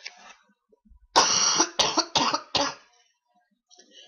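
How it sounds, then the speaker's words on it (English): A short burst of several harsh coughs close to the mic, clustered over a couple of seconds between stretches of quiet. "Quick coughing fit."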